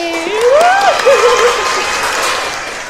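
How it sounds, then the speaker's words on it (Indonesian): Brief applause and crowd noise in a podcast studio greet a guest, while voices talk and whoop over the clapping. "Tepuk tangan dulu untuk Aiko hari ini."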